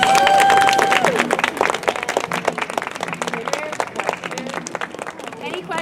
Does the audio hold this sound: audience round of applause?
yes